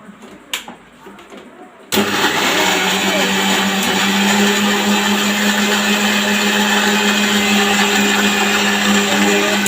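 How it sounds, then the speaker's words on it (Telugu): Mixer grinder blending a banana milkshake: a few faint knocks and brief talk, then the motor kicks in abruptly and roars loud and steady, close by, for the rest of the clip. "ఇప్పుడు మనం మిక్సీ పట్టుకోవాలి."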